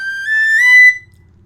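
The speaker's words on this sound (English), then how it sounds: "So this is probably one of my top slow tune whistles." A high D tin whistle plays a slow tune, one clear sustained note that bends slightly in pitch and then stops, heard alone and up close.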